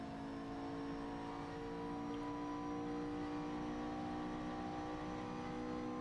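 A McLaren MP4-12C GT3 race car accelerating at Spa in Assetto Corsa, its engine a steady, sustained drone with layered harmonics held at high revs throughout, close and continuous with no voices.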